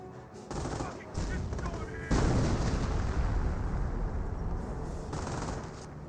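Naval barrage artillery from an off-map strike in Company of Heroes pounds a base, a dense continuous rumble of booms and blasts that swells and stays loud, with possible faint talk underneath.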